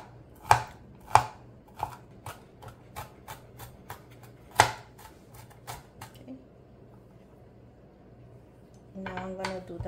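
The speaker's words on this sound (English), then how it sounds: "So we cut little pieces like this" A knife chops spicy chili into little pieces on a board: a run of crisp, irregular taps, louder at first and then lighter and quicker, before a brief clatter at the end.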